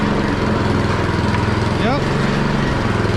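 A Troy-Bilt snow blower with its drive engaged runs close and loud, a steady throbbing small-engine drone with a brief rising whine partway through; a voice speaks one short word.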